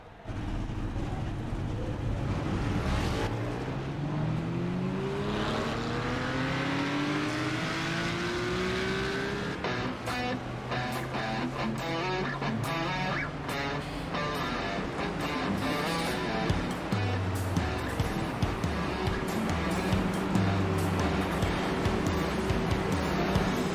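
Several race cars rev and pull away together at the start of a three-car field at the W.O.R.C. Charity 200, engines rising in pitch, loud and close, with a commentator talking faintly over the roar.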